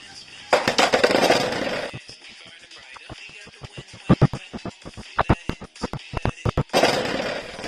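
Cardboard Beyblades launched and clattering in a battle, sharp bursts of launch noise followed by a rapid series of small clicks and knocks as the tops collide, close and fairly loud.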